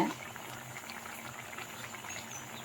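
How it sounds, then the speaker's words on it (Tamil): Water boils in a pot while wheat rava pulav is being made, giving a steady, soft bubbling that stays close and continuous without talk. "கொதிக்குது நல்லா."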